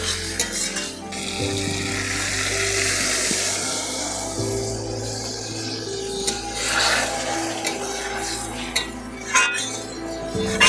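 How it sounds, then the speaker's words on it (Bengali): Water is poured into a pan of sautéed ridge gourd and potato, giving a steady close frying sizzle and bubbling with occasional clinks of a utensil against the pan. "ঝিঙ্গা আলুটা খুব সুন্দরভাবে কষিয়ে নিয়েছি এখন আমি দিয়ে দেবো জল"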